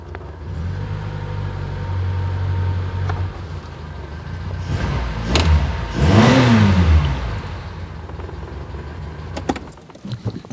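Reliant Fox car engine revving in neutral with the choke off, a steady rumble swelling into a loud rev midway before easing back down, heard close with no talk.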